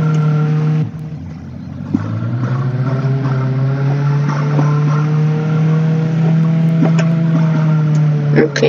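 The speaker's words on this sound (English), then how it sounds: "I'm driving backwards" Car driving in reverse in Roblox Jailbreak, a steady droning engine hum that drops then settles into a sustained, fairly loud tone, with a voice speaking over it.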